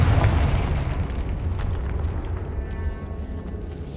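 A Confringo fire spell from Hogwarts Legacy explodes in a loud, close, booming burst that rumbles and slowly fades over several seconds, with no talk.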